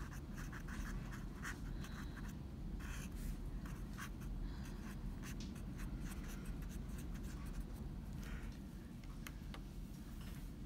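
Pen scratching on paper while notes are written for a chemistry study guide on bonding, a steady soft scrawl with faint ticking strokes over a constant low background hum.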